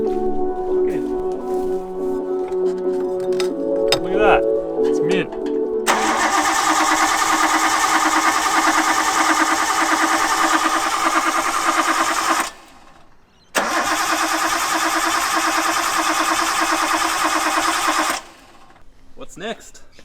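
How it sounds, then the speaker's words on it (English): An Australian Ford AU Falcon car, suspected of a spark or fueling fault, cranks loudly in long sustained bursts that stop and restart, failing to catch, with a brief pause between attempts. "So unfortunately we didn't get Lachlan's car started"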